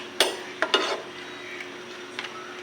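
Chopped banana heart is stirred and turned in a pan with a few quick clatters of a utensil against the metal, followed by a faint, quiet sizzle.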